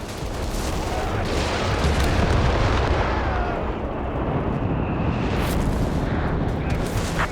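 An artillery barrage in the strategy game Company of Heroes 3, a continuous rumble of distant explosions and crackling gunfire that rolls on without a break under faint voices.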